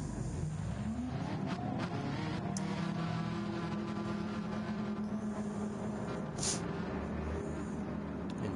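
Group 3 race cars lapping Lago Maggiore in Gran Turismo 7, with a Porsche running close behind: a steady, continuous engine drone holding at a constant level throughout, with no voices over it.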